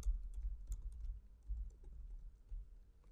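Quick, light clicking of a computer keyboard as text is typed, irregular keystrokes close by and fairly quiet, with no voice.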